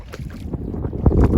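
Strong cold wind at the seaside while gathering oysters buffets the microphone in loud, low, irregular gusts and rumbles that swell and surge throughout.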